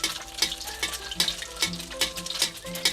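Eggs frying in a little hot oil in a pan, with oil flicked and spooned over them, give a steady close sizzle broken by repeated scraping, stirring strokes about every half second. No one speaks.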